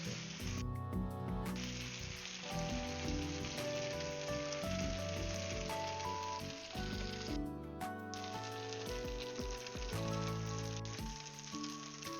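Latkes frying in hot oil, a steady crackling sizzle throughout, faint and continuous beneath background music.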